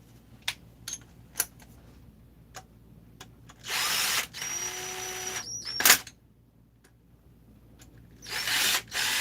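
A power tool snugs bolts into a Husqvarna chainsaw crankcase (266/372 cases) in two short whirring bursts, one longer in the middle and a brief one at the end, with scattered light clicks and handling knocks between and no talk.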